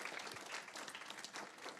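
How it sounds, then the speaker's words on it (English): Applause from the audience at a governing board meeting, a faint, distant patter of many hands clapping steadily for a couple of seconds. "Let's give them another round of applause."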